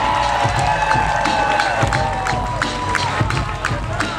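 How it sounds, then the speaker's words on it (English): A club crowd cheers, whistles and applauds for a DJ at a Berlin crossover event, a dense, loud wash of voices and claps with music and sustained tones running underneath throughout. "Give a big, big applause"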